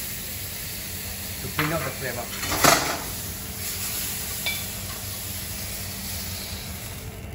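Chinese wine hits a beef stir-fry in a hot wok, giving a brief sharp burst of sizzle and steam hiss over a low, steady frying background, while someone talks briefly.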